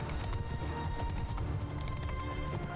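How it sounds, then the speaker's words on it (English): Cavalry hooves drum in a fast, continuous gallop during a battle in Mount & Blade II: Bannerlord, a busy clatter of many horses with occasional neighs under a constant battlefield din. "Cavalry is pushing in."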